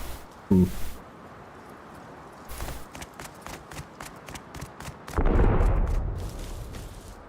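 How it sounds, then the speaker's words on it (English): Fireworks in the game Rust burst in sharp, loud pops with a heavier rumbling blast near the end, spaced irregularly over a background of smaller crackles. "kind of loud, the fireworks."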